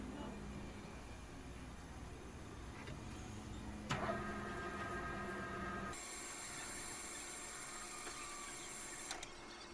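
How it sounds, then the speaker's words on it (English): Metal lathe turning at 800 RPM on an aluminum spinning ring, a steady faint mechanical hum with fine ticking texture and a brief clunk partway through, running alone at low level. "I'm going to increase the RPM back up to 800 to use the left hand cutting tool."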